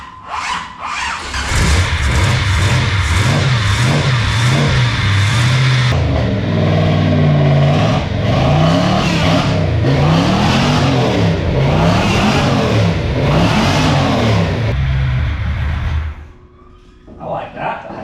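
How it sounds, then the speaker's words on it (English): A truck engine with a modified exhaust revving hard and repeatedly, loud and close, rising and falling in long surges before dropping to a rumbling idle. "We're gonna fire this up and see if my exhaust fixed anything."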